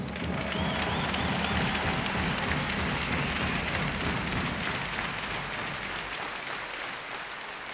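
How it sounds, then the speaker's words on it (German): Sustained applause from a hall audience at an ice hockey player's retirement ceremony: a dense, even wash of many hands clapping at once, steady and loud from start to finish. "Applaus"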